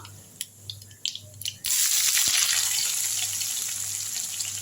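Chopped onions hit hot oil in a pan where mustard seeds have already popped, for a Tamil-style sambar made with ration toor dal. A loud, steady sizzling hiss erupts suddenly and continues, after a few faint clicks and taps.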